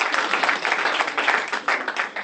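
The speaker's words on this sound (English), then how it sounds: "A round of applause, please." Dense, sustained audience applause at an academic symposium, many hands clapping steadily and fairly loud throughout, with no voices over it.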